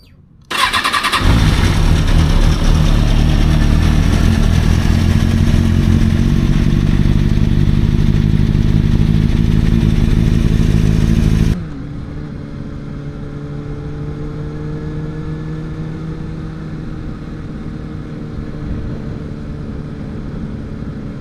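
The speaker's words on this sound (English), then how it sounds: "let's start up the bike and let's get on going" A Kawasaki 636 motorcycle cranks and fires with a short whir, then revs hard in a loud, raspy roar for about ten seconds before dropping to a lower, steady idle.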